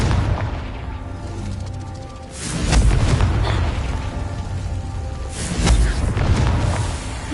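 Confringo blasting spell in Hogwarts Legacy on PS5, two heavy booming explosions a few seconds apart, loud and full, with rumbling spell effects between them.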